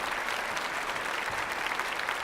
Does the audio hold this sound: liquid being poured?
no